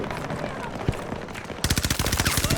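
A machine gun fires in the video game Battlefield 2042, starting with a muffled stretch and then breaking into a loud, rapid rhythmic burst of shots, with a voice audible alongside the gunfire.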